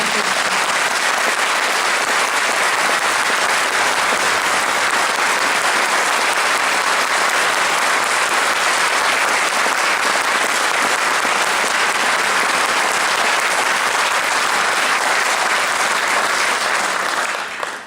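A concert audience applauds at a big-band show, with loud, dense clapping that holds steady for about eighteen seconds before fading at the very end.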